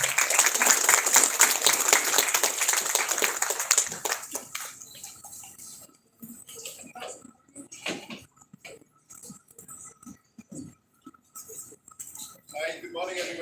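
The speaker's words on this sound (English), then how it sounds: "Please have a huge round of applause." A college audience gives a big round of applause, loud and dense for about four seconds before thinning into sporadic claps, shuffling and room noise, with a brief voice near the end.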